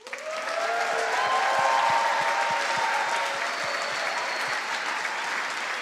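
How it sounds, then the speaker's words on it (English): A charity concert audience claps steadily and enthusiastically, a dense wash of applause that swells quickly and holds for several seconds. "I think they deserve a real round of applause"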